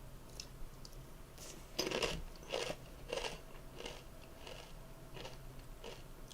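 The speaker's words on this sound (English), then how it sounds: "Crunchy chips is probably not the best thing to eat live on a stream" Crunchy chips are bitten and chewed close to the mic, giving a series of sharp crisp crunches spaced roughly half a second apart, loudest in the middle, with no talk.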